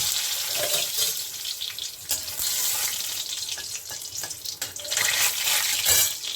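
Dried red chilies and bay leaves sizzle in hot oil in a heated kadai, a steady loud crackling fry with occasional stirring clatter and no talk.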